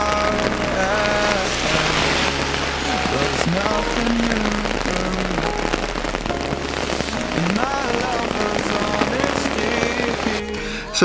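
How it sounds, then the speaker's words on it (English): Heavy rain pours steadily, drumming hard on surfaces with a constant loud hiss, while gusty rumbling and occasional sharper impacts come through. "So it's getting really windy and rainy,"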